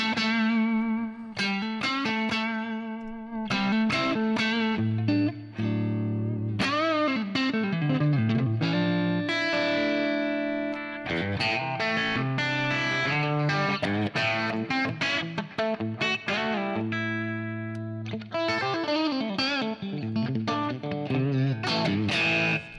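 Distorted electric guitar through a Fractal amp preset with a compressor, played as continuous chords and riffs with a thick, compact low end, loud and steady for the whole stretch with no talking.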